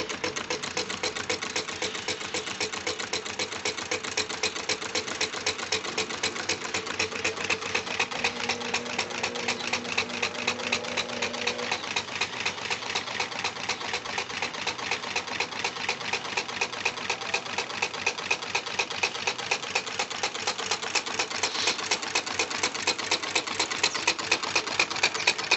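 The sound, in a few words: homemade Stirling engine running and accelerating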